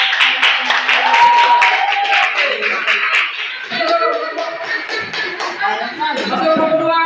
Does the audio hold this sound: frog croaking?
no